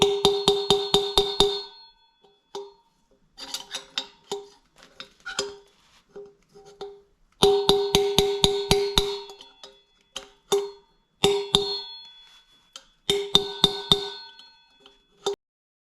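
A metal bar is hammered against the wheel bearing spacer of a Yamaha Super Ténéré motorcycle wheel. Sharp metallic strikes come in quick bursts of about six to eight blows, with short pauses between bursts, close and loud.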